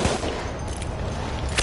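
Close, dense gunfire in Battlefield 1 strikes a player from behind, a short burst of rapid shots with sharp cracks over loud battle noise.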